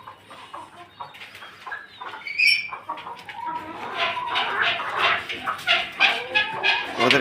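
A small flock of farmyard chickens clucks and calls nearby, the chatter building and growing louder as the birds gather together.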